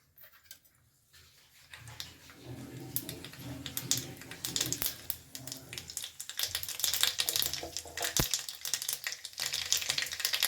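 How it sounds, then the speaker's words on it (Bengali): Black mustard seeds in a small tadka pan of hot white oil, crackling and popping in dense rapid bursts that grow busier and louder, with a sharp pop partway through. "এবার এর মধ্যে দিয়ে দিচ্ছি সামান্য একটু সাদা তেল দিয়ে দেবো হাফ চামচ মতন কালো সর্ষে"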